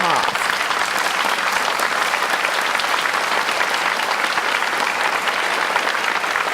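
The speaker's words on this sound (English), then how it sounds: "Please give them a round of applause." Sustained crowd applause fills a college welcome gathering as student ambassadors stand, a loud, continuous clatter of many hands lasting several seconds with no break.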